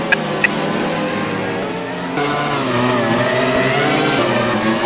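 A Formula 1 car engine at the 2002 Brazilian Grand Prix at Interlagos drones loudly and steadily, its pitch shifting and rising partway through, with brief clicks near the start and no voices.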